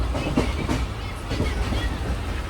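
A moving train near the Nepal border rumbles steadily and loudly on its rails at night, with faint rhythmic clacking throughout.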